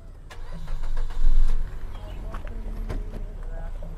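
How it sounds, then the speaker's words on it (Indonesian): A Mazda car's engine cranks and catches, swelling briefly before settling into a low, steady idle close by, with ticking and knocks over the rumble. "Kita lihat bagian mesinnya dan kita hidupkan."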